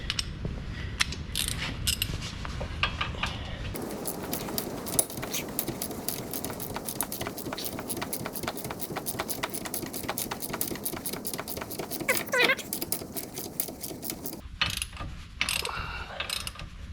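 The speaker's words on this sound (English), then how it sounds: "Got a nice little half ratchet, half inch." A half-inch ratchet loosens a brake caliper bolt on a second-generation Toyota Prius, giving a long run of fast, close, even clicks; brief clunks of handling come before and after.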